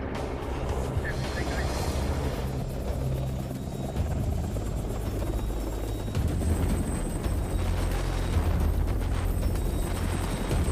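An EH-101 helicopter on a rescue exfiltration, its rotor and turbine roaring loud and continuous throughout, with a voice speaking under the steady noise.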